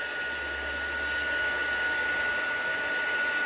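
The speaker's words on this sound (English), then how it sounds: "I'm going to bring in my heat tool and give that a good dry." A heat tool blowing hot air over an ink-sprayed journal page gives a steady, close whirring hiss with a high whine, continuous and alone.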